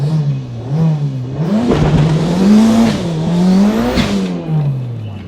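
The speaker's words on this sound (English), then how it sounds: "All-wheel drive burnout?" A 650 HP all-wheel-drive Eagle Talon does a burnout, its engine revving hard and close in a continuous roar that rises and falls over several seconds, with faint tire noise.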